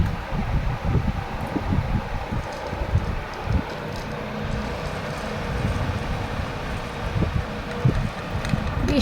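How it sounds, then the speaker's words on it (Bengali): Rain and strong wind batter a village house, a steady rushing roar with gusty low rumbles and rattling that swell and ease throughout, close and loud, with a faint voice now and then. "বৃষ্টি তো হয়েই যাচ্ছে আওয়াজই বন্ধ হচ্ছে না"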